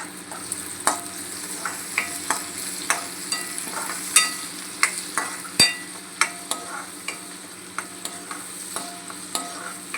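Onions fry in a pan with a steady close sizzle, broken by regular scraping and clinking stirs of a spoon against the metal, with no voice.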